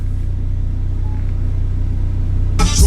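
Car engine idling as a steady low rumble heard from inside the car, constant and close, with a sudden louder burst of sound near the end.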